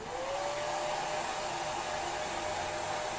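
Hair dryer blowing steadily at close range, a continuous loud airy roar with a faint motor whine, running alone without talk.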